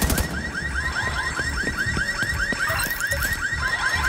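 A car alarm in The Division 2, looping rapid rising electronic whoops at a steady fast rhythm, loud and continuous over the game's background noise.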